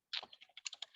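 Quick, light keystrokes tap on a computer keyboard, a short quiet run of about eight clicks in rapid succession, close by.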